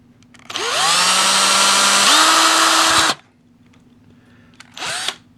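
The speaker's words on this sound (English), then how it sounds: "Now I'm drilling the hole just a little bit smaller than my nail diameter." A power drill bores a hole for a nail in a homemade PVC air gun build, running loud and close in one sustained burst of about three seconds that shifts pitch partway through, then a brief second spin.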